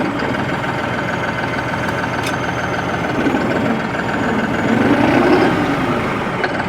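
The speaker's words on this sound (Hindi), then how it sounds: "ये मैंने डाल दिया हाई के फर्स्ट गियर में ट्रैक्टर।" A New Holland 5620 TX Plus CRDI tractor drives in high first gear, its diesel engine giving a steady, close, moderately loud drone that swells slightly toward the end, with no talking.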